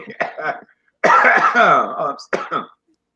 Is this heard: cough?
yes